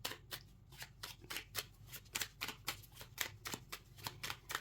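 Tarot cards are shuffled steadily for a reading, a close, crisp run of riffling snaps repeating in an even rhythm with no talking over it.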